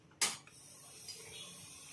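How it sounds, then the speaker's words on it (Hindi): The cap of a duplicate Bajaj engine oil bottle is twisted open with one sharp close click, followed by faint plastic creaking. "देखिए डुप्लीकेट इंजन ऑयल को हम ओपन किए"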